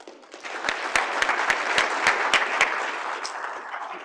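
An audience applauds the presenters at a pitch-style event, a steady wash of many hands clapping throughout with a few louder, sharper claps standing out near the front.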